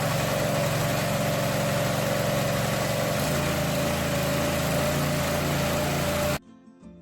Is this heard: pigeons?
no